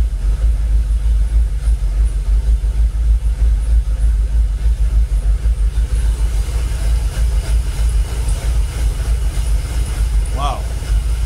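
Jaguar XKR V8 engine idling around 800 RPM, a loud, steady low rumble that holds evenly from start to finish.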